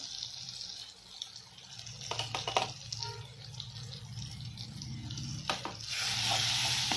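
Ground spices go into hot oil for chole, a moderate sizzle with stirring scrapes and clatter building to a louder, steady hiss near the end, without any talk.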